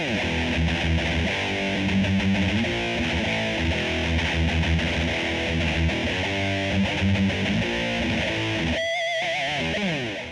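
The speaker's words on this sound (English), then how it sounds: "This is what the guitar sounds like on the emulated cabinet." Distorted electric guitar played through the emulated cabinet output of a Line 6/Bogner HD-100 amplifier, loud chugging riffs and chords with a brief pause near the end, no voices.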